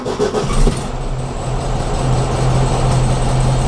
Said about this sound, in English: Sounds like a new car.